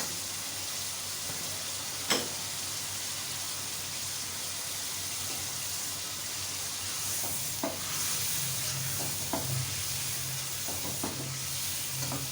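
Yogurt goes into hot beef biryani masala, leaving a continuous soft sizzle and hiss at moderate distance, with a few faint taps and scrapes of a spoon and no talking.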